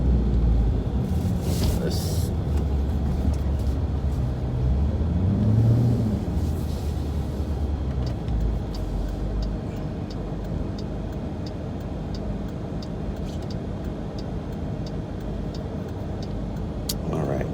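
A car cruises through traffic with a steady low engine and road rumble, faint rhythmic ticking beneath, and someone talking over it throughout.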